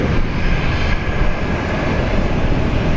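A Scimitar-winglet retrofitted airliner near runway 19 left at Brisbane International, a loud steady engine roar with broad rushing noise, close and continuous for a few seconds.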